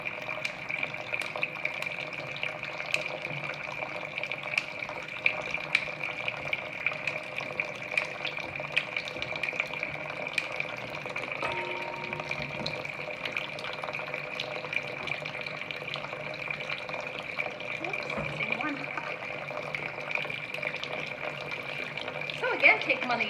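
Whole bundle of asparagus washed under a running kitchen faucet, a steady close stream of water with scattered splashes and drips, occasional handling noises, and someone talking over it.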